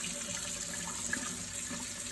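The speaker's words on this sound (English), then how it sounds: "what I'm gonna do now is wash my hands" A tap runs steadily into a sink while hands are washed, giving a continuous, even rush of water at moderate level with no voices.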